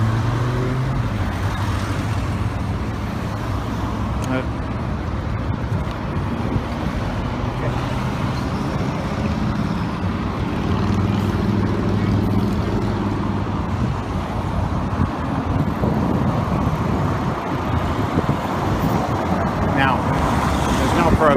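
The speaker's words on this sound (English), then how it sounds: "we're approaching the Place de la Concorde. Pretty heavy traffic there" Heavy city traffic near Place de la Concorde in Paris, a continuous roar of cars and buses with engine hum and passing vehicles, heard from a bicycle alongside a speaking voice.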